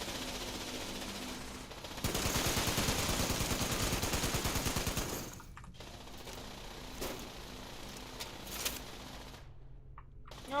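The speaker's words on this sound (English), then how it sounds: "So all the Assaultrons are getting shot by the turrets" Automated turrets firing rapid bursts at Assaultron robots in the video game Fallout 76, a dense, steady stream of gunfire lasting a few seconds, then scattered fainter shots and mechanical clatter against a low background hum.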